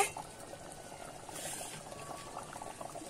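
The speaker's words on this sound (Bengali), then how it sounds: "ঝোলটা কিন্তু টক বক করে ফুটছে" Bhetki fish and taro curry bubbles steadily in a pot, a soft, continuous burble with a faint wash of liquid noise, fairly quiet and alone.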